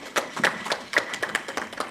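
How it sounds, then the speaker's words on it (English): Scattered audience clapping at a pension scheme's annual general meeting, a few hands striking in an irregular, loose rhythm, fairly close and moderately loud with no talk over it. "Yes, you can clap."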